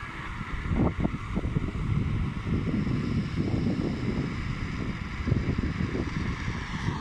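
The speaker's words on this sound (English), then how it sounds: "There was no wind, now I'm on the windy side." Gusty wind on a cold, exposed stretch of rocky coast, buffeting the microphone with a low, uneven rumble that swells and eases over several seconds, no voices.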